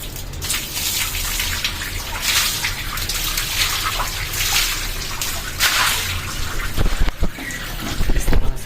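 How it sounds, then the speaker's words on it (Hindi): A full bucket of water is poured over a goat being bathed, a steady splashing gush running the whole time with a few louder splashes near the end and no talking. "अभी जो पूरी बाल्टी का पानी है वो मैं इस पर डाल दूँगा।"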